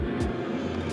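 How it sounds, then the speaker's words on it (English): A steady low roar of an airplane overhead fills the background, with a couple of brief hissing noises on top. "Sorry for the airplane noise."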